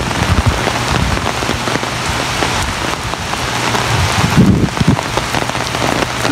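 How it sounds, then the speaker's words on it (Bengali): Heavy rain pours steadily outdoors near a flowering plant and parked cars, a dense continuous hiss of drops drumming on surfaces with no voices over it. "আমরা দেখতে পাচ্ছি অনেক জোরে বৃষ্টি নামছে"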